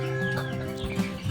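Native chickens raised as backyard poultry cluck in short, soft bursts over a steady, busy farmyard background, with no one speaking.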